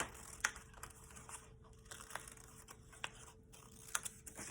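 Scissors cutting a square out of paper, a quiet run of crisp snips and crinkling paper rustle, close up with no talking.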